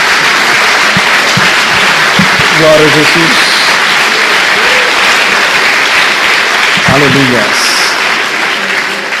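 A church congregation claps loudly and continuously in a worship service while voices call out praise over the steady ovation.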